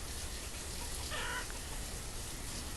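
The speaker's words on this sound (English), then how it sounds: "Chickens are growing fast actually, already up to 6 out of 8." Chickens cluck in the farming city-builder game Banished, a short, faint burst of clucking over a steady ambient game background.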